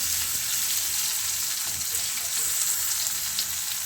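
Potatoes and onions fry in a pan, giving a loud, steady, close-up sizzle that crackles evenly throughout without any talking.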